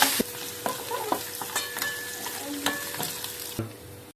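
A pongal tempering fried and stirred in a pan: a steady low sizzle with several sharp scraping and stirring knocks, moderately close, with no talk.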